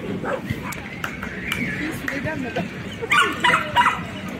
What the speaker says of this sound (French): il y a plein de chiens